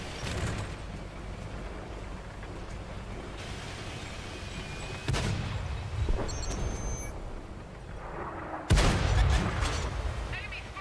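Tank cannon shots in World of Tanks, French heavy tanks firing standard rounds: three loud, booming shots spaced a few seconds apart over a constant engine rumble, with someone talking between them.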